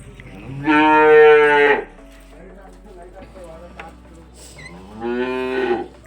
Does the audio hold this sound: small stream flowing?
no